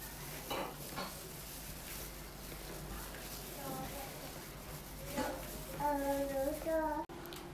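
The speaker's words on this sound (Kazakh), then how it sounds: "Араластырамыз." Batter for a raisin cake being stirred in a bowl, a soft continuous scraping and sloshing with a few clinks, and a brief tonal squeak near the end.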